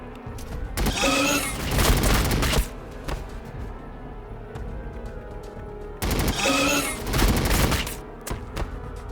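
Two loud volleys of rapid gunfire rip through a Warhammer 40,000 Battlesector battle between Blood Angels and Tyranids, each burst lasting a couple of seconds with a low rumble in between.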